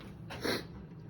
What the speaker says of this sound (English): Sorry for the sniffing, guys. I got a bit of a cold.